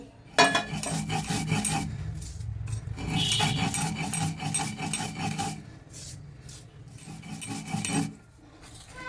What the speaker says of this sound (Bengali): আমি এবার শিলে মশলাটা করে নিচ্ছি